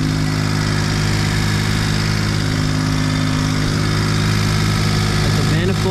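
A Suzuki Jimny's small engine idles loudly and steadily up close on a cold start, with an even, low mechanical hum and faint rattle that never changes pace.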